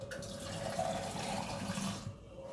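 Water pours steadily from a cup into a cooking pot with crabs, a continuous close splashing stream that tapers off near the end.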